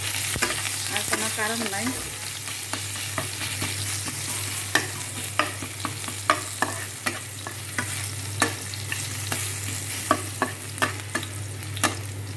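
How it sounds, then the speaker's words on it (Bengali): Garlic with a pinch of turmeric sizzles in hot oil as a tempering, with a steady close fry and repeated sharp clicks of a spoon stirring against the pan; a voice speaks briefly at the start. "ফোড়নে রসুন দেব, রসুনের সাথে হালকা একটু হলুদ দেবো"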